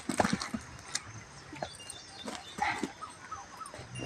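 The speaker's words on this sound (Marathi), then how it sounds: "बघा बघा कुत्री कशी खायला लागली" Dogs in a rural field eat pieces of flatbread, with several soft whimpers, yips and chewing sounds that come in brief bursts over a quiet outdoor background.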